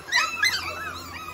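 A puppy whimpers close by in a short, high, wavering whine that rises and falls over a second or so, with no talking during it.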